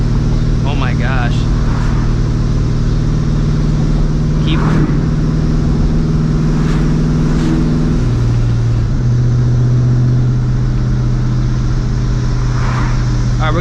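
Supercharged New Edge Mustang GT with a Vortech V1 Ti-Trim cruising at low revs, a steady engine drone under voices and cabin noise, with a brief blow-off valve whoosh.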